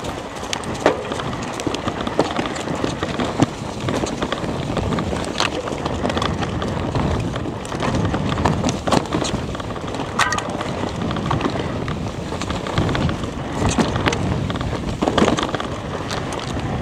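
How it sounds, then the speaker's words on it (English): Strong wind buffets the microphone during a mountain bike descent, a loud continuous roar with gusty surges and scattered rattles from the ride underneath. "Wow, it's so windy."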